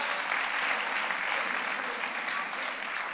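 Sustained applause from a studio audience on a Turkish singing competition final. The clapping is a dense, even wash that holds at a steady level throughout, with no voices over it.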